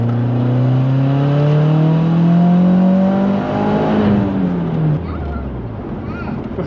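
A Mitsubishi Lancer Evolution X accelerates hard in third gear, its engine note climbing steadily and loud from inside the cabin before dropping off near the end as the throttle lifts.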